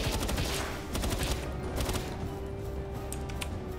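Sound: assault rifle gunfire in video game Palworld

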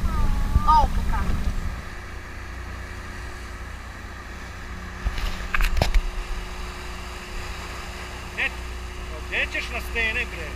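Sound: small motorboat driving at sea

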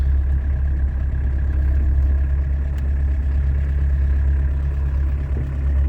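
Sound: car engine idling

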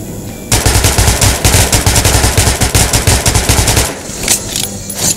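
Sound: gunfire from a gun in the video game Metro 2033 Redux

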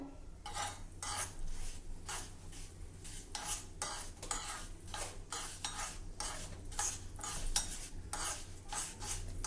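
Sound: fenugreek seeds being roasted and stirred in oil

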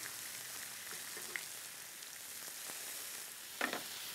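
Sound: bacon sizzling in a cast iron skillet

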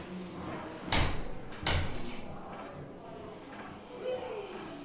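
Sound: door being closed

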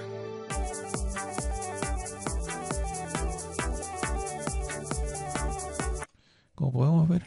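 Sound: song from Waves DVD played back in Cubase

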